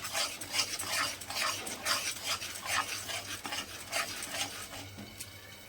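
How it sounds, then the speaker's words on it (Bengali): Yogurt is stirred into fried spice paste in a pan while cooking a homestyle potol curry, a steady rhythm of close spoon scrapes and soft sizzling with no talking. "এবার আবারও মশলার সঙ্গে ভালো মতো দইটাকে মিশিয়ে নিতে হবে।"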